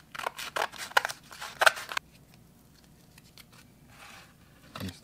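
Scissors snip through sticky perforated mesh in several quick close cuts, a crisp rhythmic run of crunching snips that stops, then one faint final cut.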